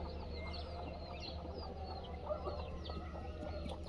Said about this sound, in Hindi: ये कड़कनाथ मुर्गी है ये वो कड़कनाथ मुर्गा है